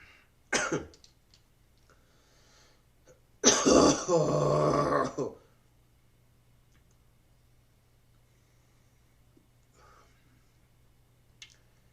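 One short cough comes early, then a longer throat-clearing cough burst of about two seconds. Both are close and loud against a quiet room with faint low hum.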